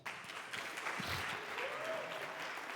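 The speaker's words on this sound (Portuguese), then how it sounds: "Salve de palmas." Church youth audience gives a steady wash of applause, a dense patter of many hands clapping at once, moderately distant and sustained.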